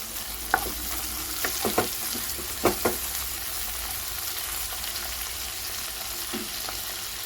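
Chopped onion frying in a pan with eggplant masala, a steady soft sizzle with a few sharp stirring scrapes and clinks from a spatula, close and without talk.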